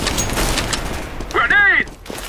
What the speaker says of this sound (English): I am throwing a grenade!